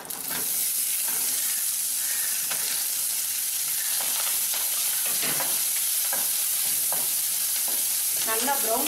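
Horsegram sautéing in a pan until brown, a steady loud sizzle with scraping and stirring sounds throughout, no voices.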